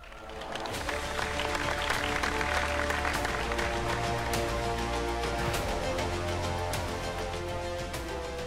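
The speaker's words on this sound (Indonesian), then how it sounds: "boleh minta tepuk tangan sekali lagi dong" A talk show audience on Islamic economics claps in a steady, moderately loud burst that carries on for several seconds, with background music playing underneath.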